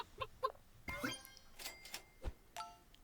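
Super Auto Pets plays a chicken sound effect, a short run of clucks and squawks with a few soft clinks in between, fairly quiet and free of talk.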